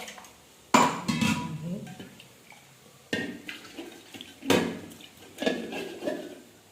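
Water splashes as a cooking pot is rinsed, in several bursts of sloshing and clinking against metal, with quiet pauses between them.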